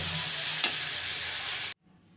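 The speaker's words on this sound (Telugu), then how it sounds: "బాగా కలుపుకోవాలండి కిందకి పైకి పోపు అంతా కలిపేటట్టుగా కలుపుకోవాలండి" Drumstick leaf dal mixed into a tempering in a pan gives a steady, close sizzle with one brief scrape of stirring, then stops suddenly.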